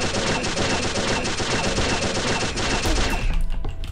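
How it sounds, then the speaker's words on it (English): Pixel Gun 3D gunfire from a pistol, a dense, loud burst of rapid shots for several seconds before it breaks off near the end. "Yeah, it's a pistol gun"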